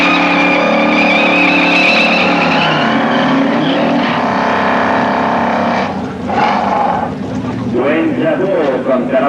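A Buick and a Plymouth Cuda drag race over a quarter mile, their engines roaring loudly and continuously up close, shifting pitch as they accelerate, while a French-speaking announcer talks over them.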